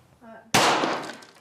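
A single sharp gunshot cracks out at a shooting practice line, preceded by a brief voice and followed by a short decaying echo.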